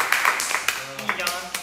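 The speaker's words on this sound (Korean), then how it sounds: "오케이 박수!" A few scattered hand claps from members of a K-pop group during a live broadcast, sharp and close, heard between and under their talking.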